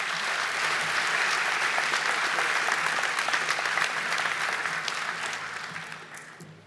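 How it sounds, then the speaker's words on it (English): A school audience at a 2019 senior athletic awards ceremony applauds the winners, a steady burst of clapping that stays full for several seconds and then gradually tapers off. "Let's give them another round of applause."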